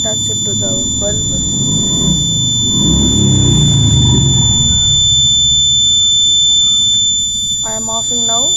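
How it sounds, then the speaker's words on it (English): Buzzer of a homemade heat-triggered fire alarm built as a science project, sounding as a steady high electronic tone throughout while a person talks over it. "It is the sound of the buzzer because of the fire attached to the bulb."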